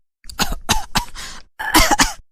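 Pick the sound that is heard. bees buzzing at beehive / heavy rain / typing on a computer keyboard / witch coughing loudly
witch coughing loudly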